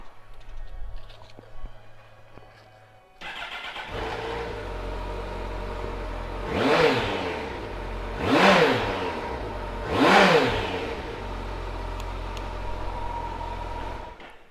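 A 2016 Kawasaki GTR1400 ABS motorcycle engine starts and then settles into a low idle, with three distinct throttle blips rising and falling at regular intervals, close by and moderately loud.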